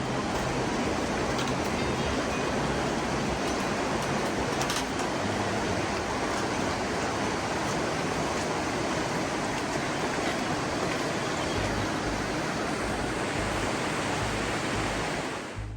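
A mountain river flowing beneath a small footbridge near the village of Kvasy in Zakarpattia, a dense, continuous rushing hiss of water that stays loud and even from start to finish.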